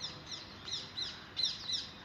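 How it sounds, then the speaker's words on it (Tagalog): Birds chirp in a tree in a garden, giving short high tweets in irregular bursts, soft and somewhat distant over a quiet outdoor background. "Puro tweet-tweet lang ng ibon ang maririnig natin."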